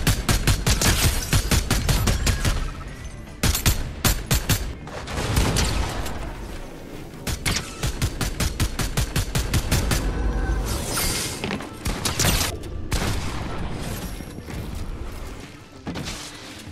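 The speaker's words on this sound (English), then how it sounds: "The delay on that shotgun is just so long." Shotgun blasts in the Fortnite video game, loud repeated booming shots in rapid irregular bursts with brief gaps, dominating throughout with no talk over them.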